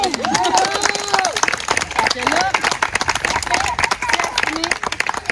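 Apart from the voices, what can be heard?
audience applause at an opening party speech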